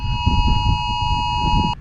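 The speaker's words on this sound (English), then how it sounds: "Our phones are going off saying that we're in a tornado warning right now." Several phones blare an emergency tornado warning alert together, a loud steady electronic tone over rumbling background noise, cutting off abruptly near the end.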